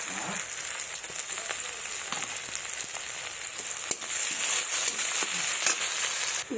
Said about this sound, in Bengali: এবার নেড়ে নেবো ভালোভাবে, একটু লাল লাল করে ভেজে নেব